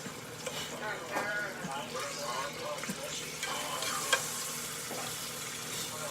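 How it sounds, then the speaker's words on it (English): Onions and peppers sautéing in a pan give a steady sizzle with scraping stir strokes, while people talk nearby over the cooking. "So you're going to saute some onions and peppers."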